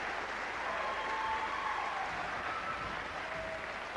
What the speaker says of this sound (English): Very much an outstanding ovation from the crowd here for a super effort.